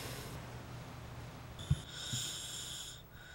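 A boy's rough, labored breathing, heard up close and alone as raspy, snoring-like breaths with a snort partway through; the boy has a congenital vascular malformation.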